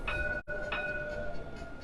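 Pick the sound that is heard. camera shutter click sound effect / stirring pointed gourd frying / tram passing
tram passing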